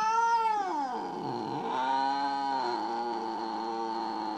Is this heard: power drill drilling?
no